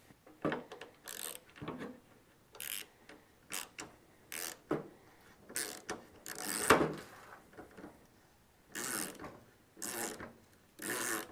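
Repeated short rasping, grinding bursts of a 3/8 tap cutting threads into a drilled metal hole for truck hood hinges, in irregular strokes with brief pauses between, fairly close and moderately loud, no talking.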